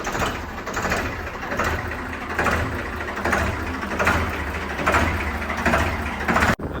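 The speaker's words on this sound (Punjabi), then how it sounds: "ਆਵਾਜ਼ ਬਹੁਤ ਘੈਂਡਾ ਬਾਈ ਟਰੈਕਟਰ ਦੀ ਕਰੋ ਚੈੱਕ" A Ford 3600 tractor engine runs steadily with a low, rumbling drone, its loudness swelling slightly in slow pulses throughout.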